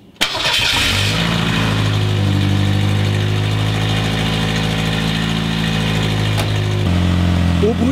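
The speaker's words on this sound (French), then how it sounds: "C'est parti, je démarre le cheval." A Ford Mustang engine with a leaking exhaust cranks and catches, then settles into a loud, steady idle with a brief rev and rising pitch near the end.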